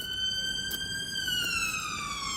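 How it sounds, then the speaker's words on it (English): An ambulance siren wails as it passes, a steady two-tone electronic tone that slides lower in pitch as the vehicle moves away, moderately loud over a faint background hiss. "With a very noisy ambulance going past"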